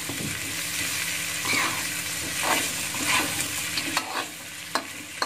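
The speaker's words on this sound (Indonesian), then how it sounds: "Lalu kita aduk kembali biar rata bumbu-bumbunya semua." A spatula scrapes and stirs through seasoned chicken sizzling in a frying pan, with a few sharp clinks against the pan near the end.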